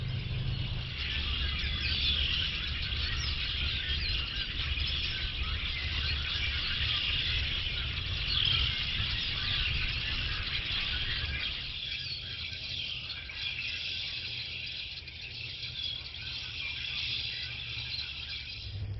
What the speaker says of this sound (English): there's a whole flock of birds up in this tree